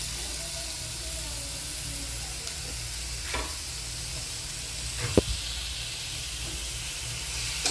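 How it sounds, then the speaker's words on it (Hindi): Reshmi kebabs frying in hot oil give a steady, even sizzle and hiss that runs throughout, with a couple of brief clinks or stirs around the middle. "और ये हमने फ्राई करने के लिए रख दिए।"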